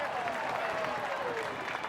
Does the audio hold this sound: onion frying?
no